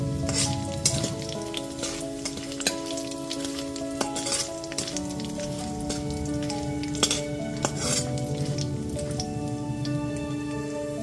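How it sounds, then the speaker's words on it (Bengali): Three cinnamon pieces, three cloves and three cardamom pods fry gently in oil over a low gas flame, giving a steady crackling sizzle with scattered pops, close up. Faint tonal music runs underneath and no one speaks. "এবার গ্যাসের ফ্লেমটা লোতে রেখে ফোড়নটাকে হালকা করে ভেজে নিতে হবে।"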